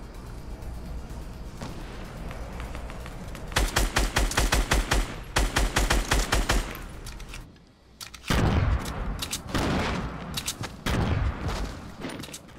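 Rapid bursts of gunfire in a Fortnite squad match, with loud fast volleys of shots separated by short pauses and a brief quieter gap, close and dominant.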